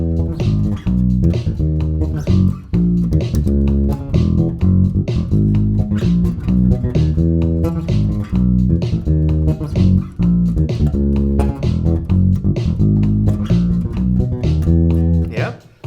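Electric bass plays a disco bass line, with busy, driving octave plucking in a steady groove, loud and close, no other voices over it.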